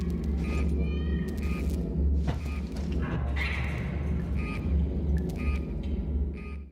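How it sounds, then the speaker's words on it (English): Inside a station's air vent in the Alien video game, a cat meows in several short, echoing cries over a low, constant mechanical rumble. "the sound of meowing has probably been heard like this before"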